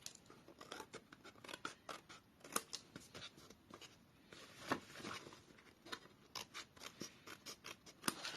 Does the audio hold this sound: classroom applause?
no